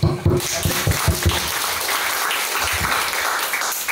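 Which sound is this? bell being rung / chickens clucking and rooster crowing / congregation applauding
congregation applauding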